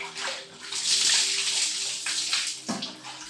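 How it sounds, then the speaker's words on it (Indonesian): Water splashes and sloshes continuously, as if someone is bathing in a river upstream, a busy wet churning at moderate loudness lasting a few seconds. "Seperti orang yang sedang mandi, dan suara itu terdengar dari arah atas sungai"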